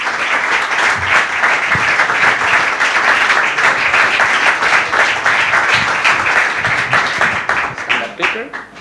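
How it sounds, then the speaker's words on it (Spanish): Loud, sustained applause from an audience at a book presentation welcoming author Rainer Zitelmann, a dense wash of clapping that holds steady for several seconds before tapering slightly at the end. "os pido un fortísimo aplauso para Reiner Zitelmann"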